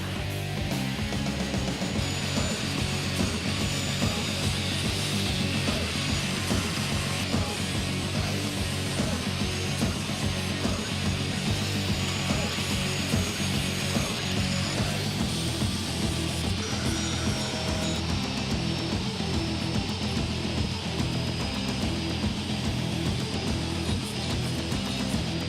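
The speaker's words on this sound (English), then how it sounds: "I'm gonna use an angle grinder and a hand sander, give this thing a lot more form, just round everything over" An angle grinder and a hand sander shape and round over a forged axe head, giving a continuous loud, dense grinding whine with a steady abrasive hiss throughout and no talking.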